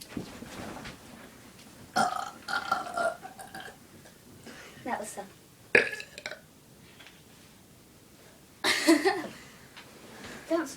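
Repeated loud burps from girls in a burping contest, several separate bursts spaced across the stretch, with talk and chuckling between them.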